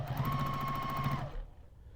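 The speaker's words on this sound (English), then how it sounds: "And I sew right to the edge of this, give it a little back stitch." A sewing machine stitches a steady run to a quilt's edge with a short back stitch, giving a close, even mechanical whir with a rapid needle rhythm for about a second and a quarter before it stops abruptly.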